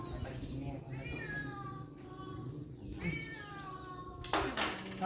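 A cat meows several times in drawn-out calls, nearby but fairly quiet, over soft background talk, with a short clatter near the end.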